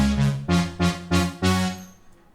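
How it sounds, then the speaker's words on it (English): Roland Juno synth preset, played through a Roland software instrument, pulses four sustained chords in a pop production, each swelling and fading in a steady rhythm, then the sound rings out alone with no voices. "I am on this Xenology plugin by Roland, and I'm using this Juno preset."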